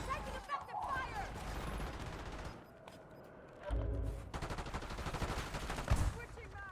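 Gunfire in the video game Warzone crackles in sustained bursts and rapid volleys, fairly loud and continuous across the moment, mixed with game noise and no clear talk.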